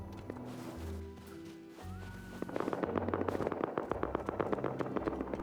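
Rapid AK rifle gunfire in the survival video game Rust, a dense run of sharp repeated shots starting partway through and continuing to the end, moderately loud over ambient game noise.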